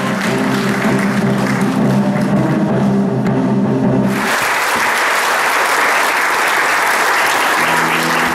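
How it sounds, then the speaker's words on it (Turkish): An audience bursts into loud, sustained applause after a theatre play staged by soldiers in Hatay, the clapping filling the whole stretch after a musical passage fades out at the start. "oyun seyirciler tarafından alkış yağmuruna tutuldu"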